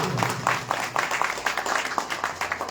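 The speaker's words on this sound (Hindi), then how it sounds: "तालियों से स्वागत करें" Audience applause at a political party meeting, a steady patter of many hands clapping at moderate volume for the full stretch, with faint voices underneath.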